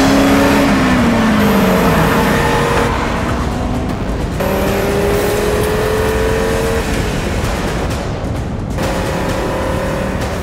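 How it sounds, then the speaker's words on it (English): Audi car engine revving and accelerating loud and close, with rising and falling engine tones and gear-change shifts across the whole stretch, evoking its five-cylinder motorsport sound. "There is a certain sound. For those who know it. Of instant recognition. An Audi is just around the corner."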